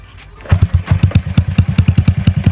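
A hot Honda Wave 110i motorcycle engine catches and settles into a loud, rapid, even thumping idle, close by with no talk.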